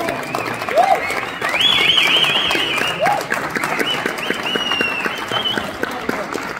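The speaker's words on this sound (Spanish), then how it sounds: "Fuerte el aplauso para el señor Rafael Inclán" Theater audience in Mexico applauding an actor at a cast presentation, sustained clapping and crowd noise with a host's voice heard faintly over it.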